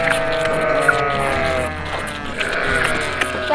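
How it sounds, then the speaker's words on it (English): A goat on a Tennessee farm bleats in repeated wavering cries close by, while farm ambience and a few voices are heard around it. "Dad, that's a goat."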